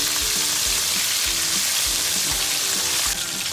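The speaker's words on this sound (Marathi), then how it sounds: "कोळंबी ही थोडी मंद गॅसवर आपण थोडी शिजवून घेणार आहोत" Prawns frying in a kadhai over a low flame for prawn chilli: a dense, even sizzle fills the clip, with a faint rhythmic thumping of stirring underneath.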